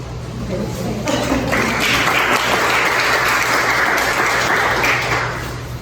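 Applause from an audience swells into a steady, fairly loud wash of many hands clapping, then tapers slightly near the end, with faint voices underneath.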